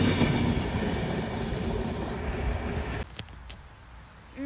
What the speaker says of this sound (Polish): Ale bardzo ciekawie, że zaskoczył nas ten pociąg